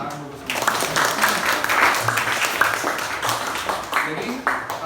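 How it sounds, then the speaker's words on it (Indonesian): Classroom of students claps together after a morning greeting, a burst of brisk hand-clapping mixed with lively voices and chatter, fairly loud and close. "Ya, tepuk tangan dulu semua."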